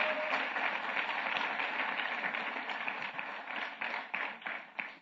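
Church congregation applauding at a Christmas service, a full spread of many hands clapping that thins toward the end into a few separate louder claps, with voices mixed in.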